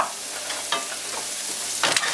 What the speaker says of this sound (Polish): Obtaczamy je dokładnie tym masłem z czosnkiem.